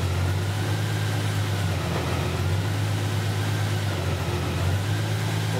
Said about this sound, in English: So you just let the engine run, and it will take a little bit of time as it tries to go through the gears and shift.